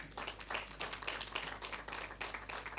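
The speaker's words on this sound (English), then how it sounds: "Wait for your hand clap before you go" A small group claps for a few seconds, uneven and continuous, with no voices over it.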